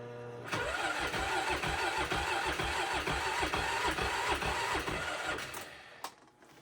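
A vehicle engine cold-starts on an 8°F Alaska winter day: a short cranking burst catches into a steady, loud, rough-running idle close by, then cuts off with a knock near the end.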